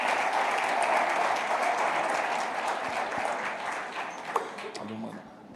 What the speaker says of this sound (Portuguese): Gente, que aplaude a vida do nosso pastor Henrique,